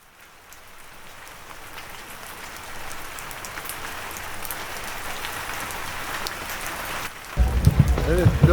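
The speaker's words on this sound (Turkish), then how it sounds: "gösteri yapmak üzere gelen gruplar yağmurla karşılaştı" Steady rain on an outdoor festival in Gölcük in late July, a broad hiss of drops building slowly and growing heavier near the end, with a few low knocks.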